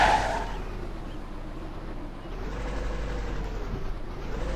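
A car is driven slowly through a narrow, cramped place, its engine a low steady rumble heard from inside, loudest at the start and then holding even without talk.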